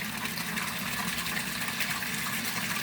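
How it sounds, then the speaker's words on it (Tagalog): Resun 18-watt aquarium aerator pump bubbling water, a dense steady rush of churning bubbles and gushing, close and continuous with no pauses. "Risan aerator pump guys"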